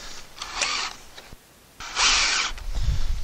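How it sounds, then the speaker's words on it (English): A power drill whirs in two short bursts with a pause between them, close and fairly loud, driving a screw through two holes to anchor a gazebo to a deck. "Put the screw through the two holes"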